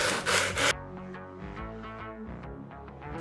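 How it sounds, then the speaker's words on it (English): Hand-shaping a tapered, beveled edge on a wooden piece for a TARDIS build: a quick run of loud, close rasping strokes, then background music takes over. "The only thing left to do is to do a taper on the edges."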